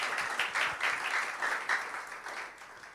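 A church congregation at a Burmese-language worship service claps together in praise, a lively rhythmic burst of hand claps with a pulsing beat throughout.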